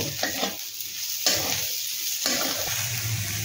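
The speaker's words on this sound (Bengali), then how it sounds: "দিয়ে এটাও একটু ভেজে নেব।" Chopped onion, green chilies and cashews fry in a pan with a steady loud sizzle, broken every second or so by the scrape of a spatula stirring, with no voices.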